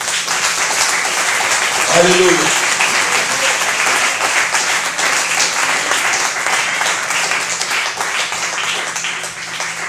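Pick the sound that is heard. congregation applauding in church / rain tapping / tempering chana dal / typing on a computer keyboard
congregation applauding in church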